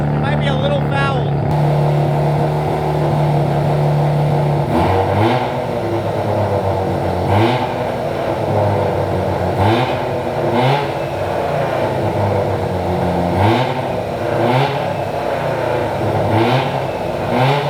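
Mazda RX7 rotary engine running rough and stumbling below 2,000 rpm, revved repeatedly in a steady series of short blips over a loud continuous idle, recorded close up.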